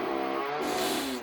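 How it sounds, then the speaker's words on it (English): A chainsaw revs steadily inside the horror video game Homicipher, a loud buzzing engine drone with a rising, whining pitch that holds for about a second. "Oh, sound of a chainsaw."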